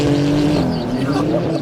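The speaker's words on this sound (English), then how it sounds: "I got heaps of wheel spin. This track is very slippery." A Porsche 911 Turbo and an Audi RS3 launch together on a slippery drag track with wheel spin, a loud close roar of engines rising under a voice, with a brief tire-squeal edge.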